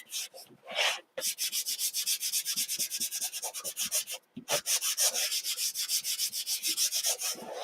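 A hand briskly rubs over the cover of a kraft spiral notebook in fast, even back-and-forth strokes, close and loud, with a short pause partway through before the rhythmic scrubbing picks up again.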